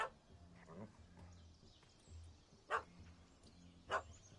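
Puppy in a PS4 game chasing a cat up a tree, giving two short, sharp yaps a second apart over low ambient game sound, with a voice speaking briefly at the start.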